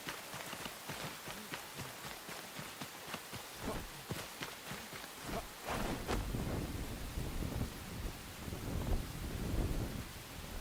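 Rain and thunder in the video game Enshrouded: a soft hiss of rainfall under a low rumble, with quiet rhythmic footsteps in the first half, all faint.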